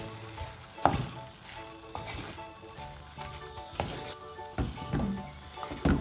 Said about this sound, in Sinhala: අපි ඒක මේ විදිහට කවලම් කරගමු.